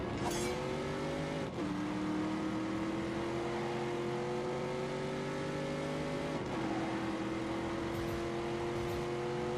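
A 550-horsepower V8 sports car in The Grand Tour video game revs and pulls through gears, the engine tone climbing steadily with two abrupt shift drops, moderately loud and without talk.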